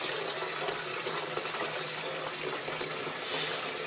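Water pours steadily from a tap into plastic gallon jugs for chicken waterers on a farm, a continuous close gushing fill with no pauses and no talking.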